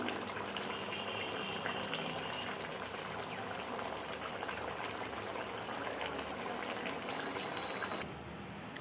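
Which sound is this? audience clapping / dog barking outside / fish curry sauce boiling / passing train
fish curry sauce boiling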